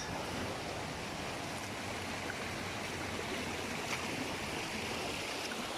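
A small hot-spring stream in the Wallibou River valley near La Soufrière runs steadily, a close, continuous broadband rush of flowing water with light wind on the microphone, no talking.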